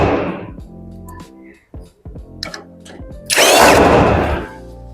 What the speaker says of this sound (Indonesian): dibaut lagi di bagian belakang bawah seperti ini